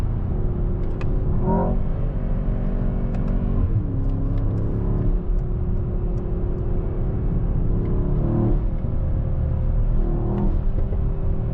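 A 2025 Mercedes-AMG S63 E Performance engine roars steadily at close range with a few brief exhaust crackles and blow-off whooshes breaking through the constant drone.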